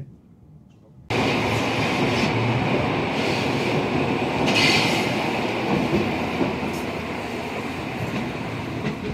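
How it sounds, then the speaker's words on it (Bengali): The Bernina Express in Switzerland rumbles steadily through a mountain curve, a loud continuous rolling roar heard from inside the carriage, with faint wheel squeal and brief murmuring voices in the background. "এইখানে ট্রেনটা এরকম করে কার্ভ নিচ্ছে"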